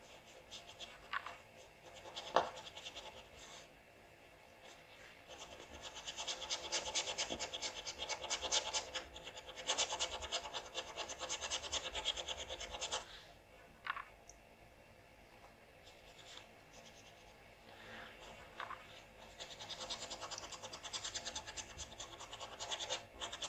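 A dry brush scratches across a surface in long rasping strokes, coming in several sustained bursts separated by quieter pauses, close and fairly soft.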